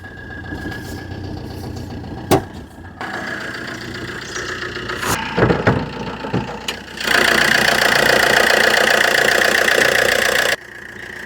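A diesel Maruti Swift Dzire car engine idling steadily and close by, a continuous mid-pitched rumble with a brief louder knock partway through and a brighter, louder stretch toward the end.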